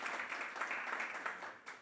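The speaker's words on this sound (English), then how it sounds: "so applause for that" An audience applauds a newly married couple at a tenth-anniversary event. Steady, fairly faint clapping from many hands fills the room, with no voices over it.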